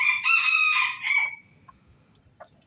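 Rooster crowing loudly and close, one long harmonic call for over a second, followed by a few short clucks from chicks or hens in a quiet farmyard.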